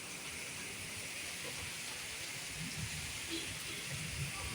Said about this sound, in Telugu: గాలితో కూడిన భారీ వర్షం